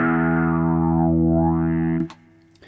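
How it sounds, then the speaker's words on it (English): Electric guitar run through an overdrive pedal into a wah-wah pedal: a sustained distorted chord whose tone sweeps down and back up, then a quick cutoff with faint string noise. "the overdrive pedal is first in the chain. That means that the wah-wah pedal is going to deal with the overdriven sound"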